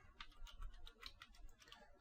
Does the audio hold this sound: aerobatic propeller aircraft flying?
no